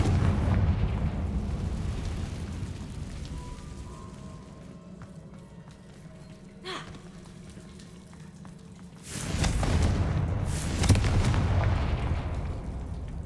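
A Confringo fire spell explodes in the video game Hogwarts Legacy, first as a low rumbling blast that fades, then as a second loud, sudden burst with a crackling roar.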